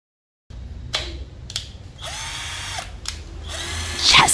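An Ingco 12V cordless drill fitted with a Total 12V battery whirs in several short bursts, trigger pulled and released repeatedly, then a longer steady run, close and fairly loud with no talking.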